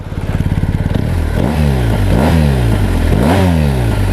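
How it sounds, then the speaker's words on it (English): A 2019 BMW R1250RS motorcycle's exhaust, loud and close, idling briefly before several sharp revs that climb and fall back in steady repeated swells. "I'm just going to do a quick exhaust test here."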